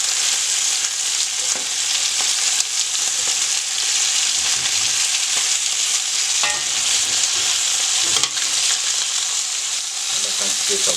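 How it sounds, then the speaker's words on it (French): Veal shank for osso buco browning in a frying pan, a loud, steady hiss and crackle of hot fat with occasional pops and faint clinks as the meat is turned, without any talking. "on retourne notre viande, donc on va dorer toutes les faces de façon homogène"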